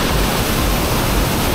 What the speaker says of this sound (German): Hier ist der Wasserfall.